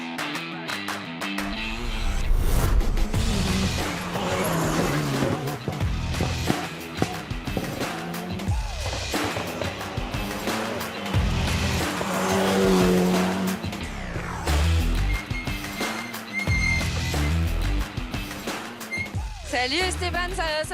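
An Alpine A110 RGT rally car runs a special stage, with its engine revving and changing pitch, tires squealing and skidding in bursts, and spoken commentary layered over the driving noise throughout.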